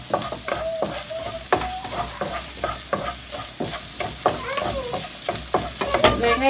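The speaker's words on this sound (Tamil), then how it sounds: "எண்ணெய் காஞ்சிருச்சு இப்போ, அதனால் கொஞ்சம் வெங்காயம் ஆட் பண்ணுறேன்." Onions fry in hot oil in a pan for vegetable puff filling, producing a continuous close sizzle broken by frequent scraping and tapping stirs.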